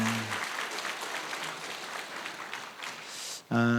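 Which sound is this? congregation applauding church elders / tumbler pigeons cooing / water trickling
congregation applauding church elders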